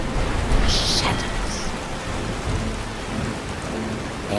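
A storm at sea near a rocky coast in the video game Skyrim: steady, dense rainfall with low rolling thunder underneath, continuous and loud throughout.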